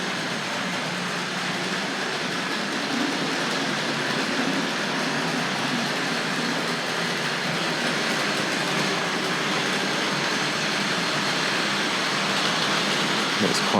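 Two Hornby model locomotives, including an Ivatt Class 2, rumble and clatter along their track in a steady, continuous whir that holds an even loudness throughout, with no voices.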